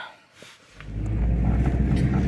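Car interior on the road to a village, a low steady engine and road rumble swelling in after a quiet start and holding constant and close.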